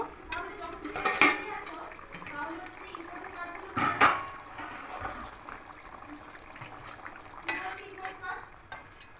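A lid is lifted off a cooking pot of fish curry with potatoes and taro, giving a few bright metallic clanks, with a soft simmer and someone speaking in between.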